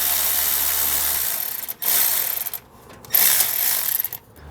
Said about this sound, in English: Once you get that last bolt removed, there's nothing else holding the heat shield.